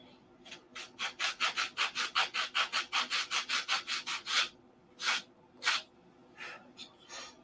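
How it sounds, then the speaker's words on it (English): Hand sanding on a model airplane cowl for a 1/2A Cobra, a rapid run of about fifteen even back-and-forth rubbing strokes, close and fairly loud, then a pause and a few slower, separate strokes. "I'm going to have to sand and fit this."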